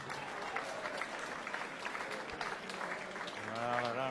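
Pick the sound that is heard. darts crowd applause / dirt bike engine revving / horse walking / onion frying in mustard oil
darts crowd applause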